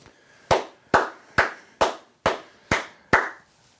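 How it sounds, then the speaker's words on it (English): Hands clapping in seven sharp, evenly spaced claps, close and loud in a quiet room with no talking. "I'm just going to clap it up"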